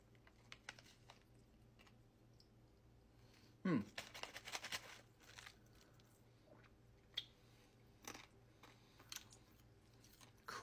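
Crunchy Icee pop rock candy, blue raspberry flavour, chewed close to the mouth, giving a burst of crisp crunching around the middle followed by scattered softer crackles and clicks.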